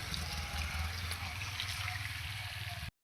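Heavy rain pours down at night onto a flooded road, a dense, steady rush of falling and running water close by, continuous until it cuts off abruptly.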